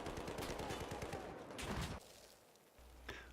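An M416 assault rifle in Battlefield 4 fires in a rapid burst of evenly spaced shots for about two seconds, fairly quiet, then falls mostly silent apart from a faint later click.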